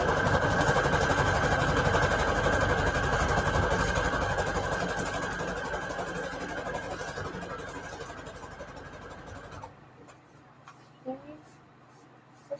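A sewing machine runs steadily as it stitches lace trim onto book paper scraps, a close continuous mechanical whir that fades and stops, followed by a few light clicks and handling noises.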